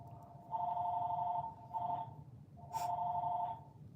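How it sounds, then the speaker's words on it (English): A mobile phone rings nearby in two bursts of a bright, warbling electronic ringtone with a short gap between them, over a quiet room hum. "My phone's ringing."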